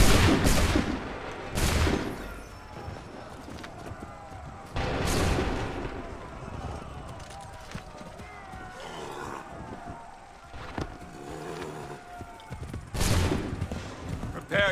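Soldiers fire a musket volley in Assassin's Creed 3 during a battle. Booming shots come in a few loud bursts with rumbling echoes, mixed with shouted battlefield commands, hoofbeats and general combat noise.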